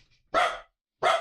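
A dog barks twice, two short loud woofs about half a second apart, close by and alone with no talk.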